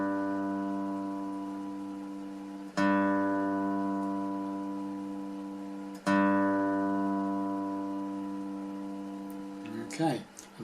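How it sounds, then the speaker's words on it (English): Guitar fifth string detuned from A down to G, plucked twice a few seconds apart, each low note ringing out and slowly fading, close and clean, with a short handling rustle at the end. "fifth string, normally an A in standard tuning, also has to be detuned"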